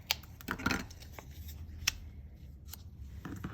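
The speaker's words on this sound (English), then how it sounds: "And I am going to cut these" Scissors snip through card paper in a few quick, close cuts with soft rustling of the paper between them, quiet and without speech.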